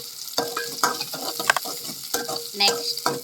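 Onions sizzle in hot oil in a pan, with a spoon stirring and scraping in quick, irregular strokes over a steady frying hiss, loud and close with no talk.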